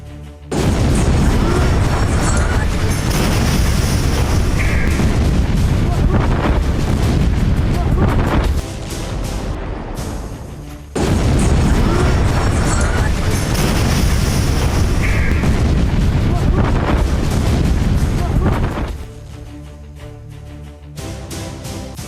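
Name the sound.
explosion blasts in Beirut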